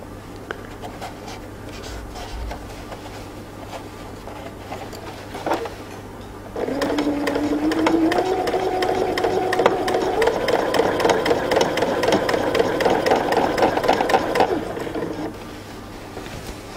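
A sewing machine stitches a pants waistband with elastic, first in faint short bursts and then in one steady, fairly loud run of several seconds that rises in pitch and stops near the end, with no talk.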